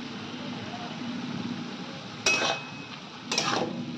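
Green capsicum and red bell pepper fry in a pan for egg chicken fried rice, a steady soft sizzle broken by two short scraping clinks of stirring.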